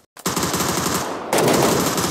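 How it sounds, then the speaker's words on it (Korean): Rapid automatic gunfire in a battle royale video game, a dense continuous burst starting after a brief silence and growing louder partway through, with no talk over it. "멀리서 아까 총 쏘지 않았나?"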